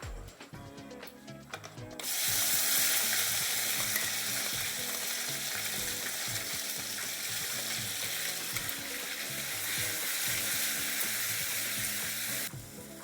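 Ground spice paste dropped into tempered oil for a soya kofta curry sets off a sudden loud, sustained sizzle with scraping stirs, following quieter clinks and handling.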